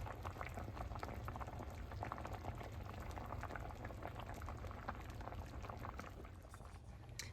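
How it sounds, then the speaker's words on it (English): Tuscan sausage, potato and kale soup bubbling at a gentle simmer in a pot, a steady, continuous bubbling and popping that holds an even level throughout, with no voices. "we're gonna bring the soup to a gentle simmer"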